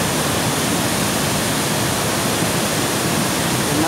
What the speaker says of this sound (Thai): นี่คือด้านของน้ำตกแก่งโสภาในวันนี้ครับ